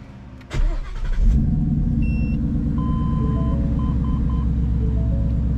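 Ford Mustang 5.0 V8 engine fires up with a sharp burst, then settles into a loud steady rumbling idle close by, with electronic chimes beeping over it and no talk.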